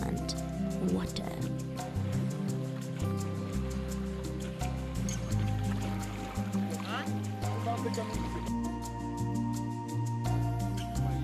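Water flows steadily in a stream at the bottom of the Dniester canyon, a continuous rushing and gurgling wash under a narrator's voice that runs throughout.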